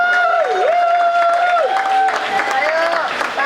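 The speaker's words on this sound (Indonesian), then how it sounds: "Ibu Sri Suharni, tepuk tangan." Applause from the crowd at an Indonesian artists' award ceremony runs under a loud sustained tone with wavering pitch, probably music or a feedback-like drone, and the clapping stays fairly mixed in.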